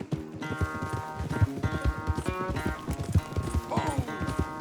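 Horses gallop at full pace in a race in the video game Red Dead Redemption 2, hooves pounding in a rapid, steady rhythm under a musical score, with a brief whinny near the end.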